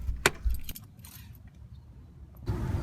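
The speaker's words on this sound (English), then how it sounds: "let me go ahead and open the trunk to get the pump out of the car" A 2011 Subaru's trunk being opened, with keys jangling sharply up front, a couple of clicks and thuds, then a rougher rustling burst near the end, all close and moderately quiet with no talking.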